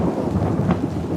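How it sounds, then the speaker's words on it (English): Thunder rumbles through a rainstorm, a loud, steady low roar that fills the short moment with no voices over it. "That's a big thunder."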